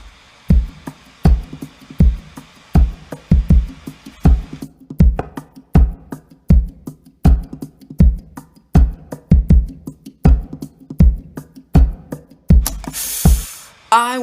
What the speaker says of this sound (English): with everything, the drums sound like this